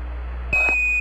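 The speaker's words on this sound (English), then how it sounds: "Give us a reading on the 1202 program alarm." Apollo 11 lunar module 1202 program alarm tone: a loud, steady high electronic beep switches on abruptly and holds alone above a low radio hum, cutting off just at the end.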